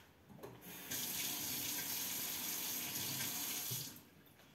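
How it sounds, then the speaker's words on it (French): A paintbrush is rinsed under a running tap in a sink while painting a moodboard: a steady, hissing rush of water starts after a moment, continues evenly for about three seconds, then cuts off, close and alone. "Rincer mon pinceau."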